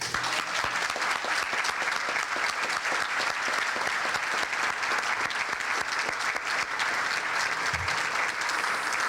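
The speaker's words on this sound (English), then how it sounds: "I think we owe Glenn Nelson one round of applause" Sustained audience applause for a chamber of commerce supporter at a 1985 Cupertino citizens-of-the-year event, a dense, steady roar of many hands clapping that holds evenly for the whole stretch with no talking.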